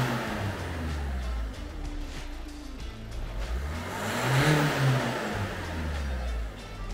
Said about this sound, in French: Si je sollicite rapidement le turbo avec des coups d'accélérateur